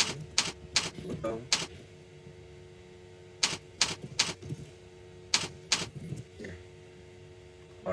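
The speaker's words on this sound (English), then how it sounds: "I can type something." Typing a caption on a computer keyboard while posting a photo to Instagram from a desktop web browser: quick bursts of crisp, close key clicks separated by pauses, with no voice over them.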